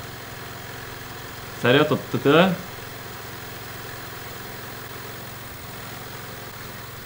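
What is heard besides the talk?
lawn mower engine running in Hello Neighbor video game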